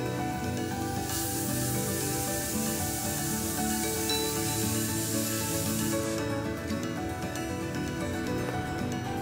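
A pressure cooker cooking pasta lets out a sustained, hissing steam whistle for several seconds, then cuts off, leaving a quieter background.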